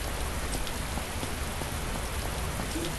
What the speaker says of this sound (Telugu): భయ్యా వర్షం.